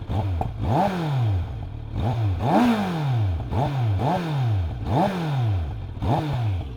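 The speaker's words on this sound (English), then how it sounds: "Let's have a little listen to the exhaust." A 2024 Kawasaki Z900 motorcycle engine is revved repeatedly up close, about seven rising-and-falling throttle blips in a steady rhythm with a rough exhaust rasp.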